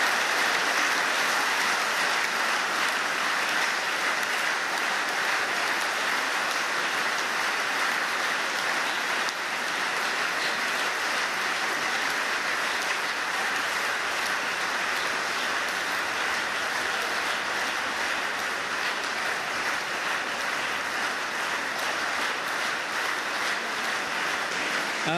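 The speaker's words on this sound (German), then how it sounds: "Applaus und Glückwünsche gibt es jetzt für Christian Lindner." FDP party congress delegates give Christian Lindner a long, dense applause after his re-election as party chairman, a steady roar of clapping that stays loud throughout.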